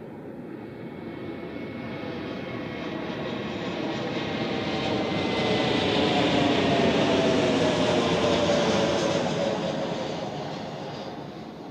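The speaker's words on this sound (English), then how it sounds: "So, A321neo coming in." An Airbus A321neo airliner lands at Zurich Airport, its engine roar swelling steadily as it passes close by, peaking midway, then easing slightly as it continues down the runway.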